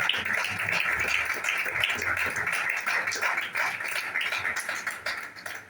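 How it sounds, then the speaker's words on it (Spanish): A church congregation claps hands loudly and steadily during a Spanish-language sermon, a dense continuous patter of many hands filling the room. "Hágale fuerte las palmas."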